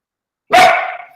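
A dog barks once, loud and close, a single sharp bark that cuts into otherwise silent surroundings during an online webinar.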